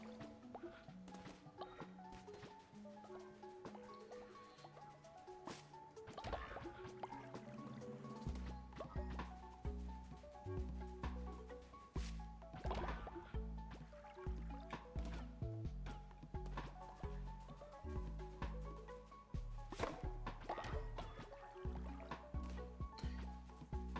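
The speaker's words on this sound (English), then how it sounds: "Just gonna water all this." Crops watered with a watering can in a video game: repeated splashy, gurgling pours of water come in regular bursts over steady, plucked game music.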